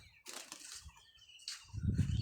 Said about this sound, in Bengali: এখানে একটা কবুতর ছিল এই ডালের মধ্যে, তো কবুতরটা হঠাৎ উড়াল দিছে